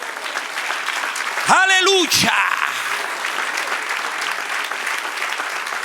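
Church congregation applauding during a Spanish-language sermon, a steady wash of clapping throughout with a voice loudly calling out over it midway.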